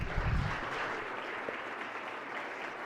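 Lawmakers and guests in the Maryland Senate chamber applaud during a floor session, a steady, moderately loud wash of clapping that carries evenly through the room.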